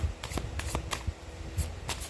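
A deck of tarot cards being shuffled by hand, a run of quick riffling flutters and soft taps repeating in short bursts, close and fairly quiet.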